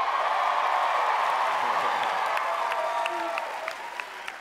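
Crowd at the 2015 Billboard Music Awards in Las Vegas applauding and cheering, a dense wash of clapping that gradually thins and fades, with a few whoops rising above it.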